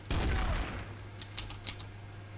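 Gunfire in the Trouble in Terrorist Town game: a loud burst at the start that decays over half a second, then several quick, sharp, lighter shots or clicks in a loose cluster, with no talking.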